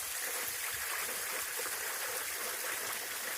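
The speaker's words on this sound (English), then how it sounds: "That's your first waterfall." A small waterfall in the Peak District outdoors, a steady soft rushing and splashing of falling water that continues evenly throughout, fairly quiet and close, with no talking.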